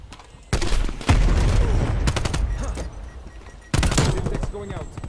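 AK-74u gunfire in a video game rings out in loud, close bursts of rapid automatic fire, separated by short pauses, with a player's voice talking over parts of it.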